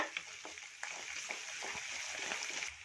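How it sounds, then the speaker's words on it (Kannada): Crushed garlic, grated ginger, chilies and curry leaves fry in oil for masala dosa filling, a close, steady sizzle with soft crackles and occasional stirring clinks. "ನೋಡಿ, ಚೆನ್ನಾಗಿ ಫ್ರೈ ಮಾಡ್ಕೊಳ್ಳೋಣ"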